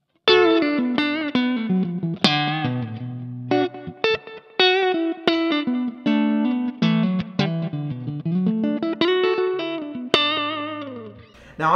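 Stratocaster electric guitar played through a Kemper profiler with the pick parameter raised for a fingerpicked feel, a clean-ish melodic run of plucked notes and chords with chorus-like shimmer, loud and close with no talking.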